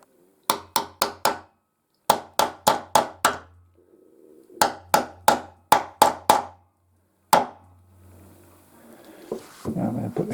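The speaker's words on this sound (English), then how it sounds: "I'm just about to tap that in with a hammer" Sharp hammer taps on a peg in quick bursts of four or five, pausing between groups, followed by a single blow and some faint rustling.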